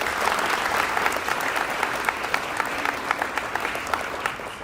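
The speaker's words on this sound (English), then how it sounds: "please give those people a round of applause" A crowd at a high school honors night gives steady, dense applause with sharp individual claps standing out throughout.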